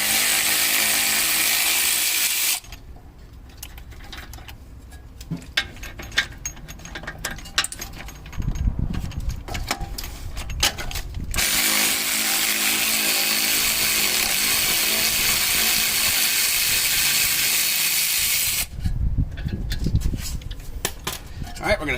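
A power tool removes two 19mm bolts from the lower control arm of a 1995 Mercedes W140 S500. Long, loud buzzing runs start and stop, separated by quieter stretches of metallic clanks and handling noise.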